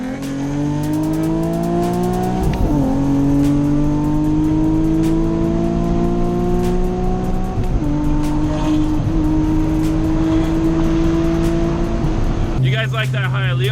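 A Nissan 370Z accelerates hard on a highway, engine note climbing steadily through the gears, with brief dips at each shift and a loud, close, continuous drone before a horn-like burst near the end.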